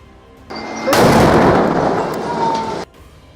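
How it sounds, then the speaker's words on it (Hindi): An IED detonated against IDF forces in an attack in Gaza bursts in as a loud, sustained blast roar lasting about two seconds, rising suddenly after a quieter lead-in and cutting off abruptly. "उसके लड़ाकों ने उस आईईडी को डेटोनेट कर दिया"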